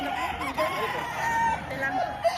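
Chickens and roosters at a Tuesday poultry market in Padre Garcia, Batangas, crow and cluck continuously in a busy chorus, with several birds overlapping at moderate distance and market chatter underneath.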